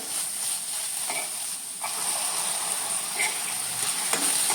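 Tomatoes frying with onion in a pan for a Konkani lasuni methi dish, a soft steady hiss with occasional faint stirring scrapes, fairly quiet and without speech.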